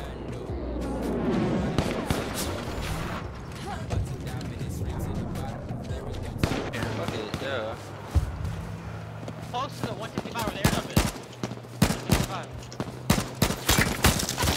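Gunfire in the battle royale game H1Z1, bursts of rapid shots and scattered single cracks throughout, close and sharp, with voices talking over parts of it.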